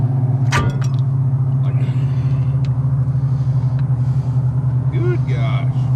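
A car rolls along with a failing wheel bearing, giving a steady loud low droning hum and rumble from the road, with a voice talking briefly over it.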